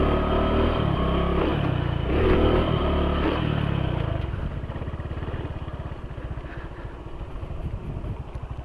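Motorcycle ridden on muddy dirt ground, the engine roaring loudly at first and then settling into a lower, throbbing, uneven putter with rattling, heard close and alone.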